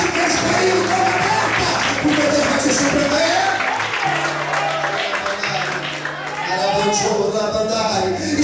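Congregation clapping during a lively church service, rhythmic applause blended with voices and music-like tones, with people talking and calling out over the clapping.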